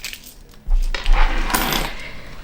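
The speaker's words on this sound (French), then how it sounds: "j'ai mis quand même un gros trousseau de clés, il est gros, et j'ai glissé mon argent" A large bunch of keys and some money shift inside a small zip-close fabric wristband wallet, giving a brief muffled jingle and clink of metal through cloth, close and alone.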